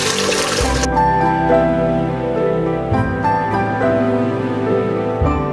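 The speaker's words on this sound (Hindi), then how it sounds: "पानी लगाऊंगी अपने गोश्त को" Water poured from a container into a pot of mutton for a gobhi gosht curry, a steady close splashing pour that runs for most of the clip with faint kitchen clatter and no talk.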